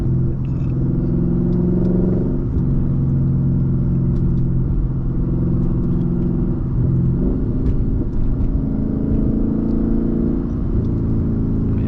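Deep V8 growl from a Lexus ISF on the move, loud and close from the cabin, holding a steady rumbling tone for about twelve seconds with a few swells as the revs rise and fall.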